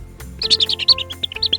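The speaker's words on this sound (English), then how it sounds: "Listen to them chirp." Toy chicks chirping in a rapid run of bright, high tweets, close and fairly loud, with short gaps between the calls.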